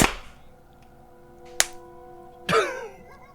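Two separate, isolated hand claps from people in different rooms, heard over a remote call: a sharp single clap, then a second slightly later and softer, with a low steady hum between them.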